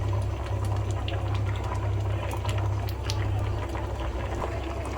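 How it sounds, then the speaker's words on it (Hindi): Water poured into a simmering Konkani mixed seafood gravy with prawns, a steady close liquid rush and bubbling that continues evenly throughout, with a low hum beneath. "अब जितना पानी चाहे उतना डालने का"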